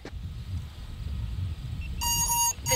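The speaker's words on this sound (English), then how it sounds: "So it's beeping at me because it's seeing these power lines." Warning beeps from a DJI Agras T20 agricultural spraying drone reacting to nearby power lines, a steady repeated tone starting partway through over low outdoor rumble.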